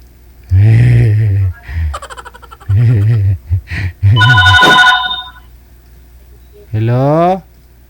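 A phone ringtone sounds for an incoming call, a bright repeating ring that breaks in between loud bursts of voices during a live call-in show.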